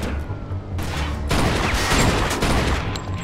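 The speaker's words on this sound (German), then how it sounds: "Der hat eine vollautomatische Waffe." Fully automatic weapon fire in the video game Mafia 2, dense rapid bursts that fill nearly the whole stretch, loud and harsh, with a short lull near the start.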